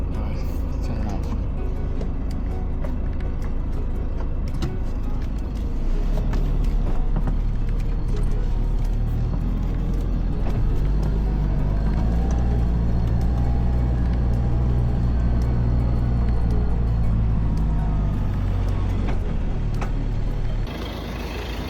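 A vehicle drives along a dirt road in the Okavango Delta, with a steady low engine rumble and constant rattling road noise throughout, the drone growing heavier midway and then easing off near the end.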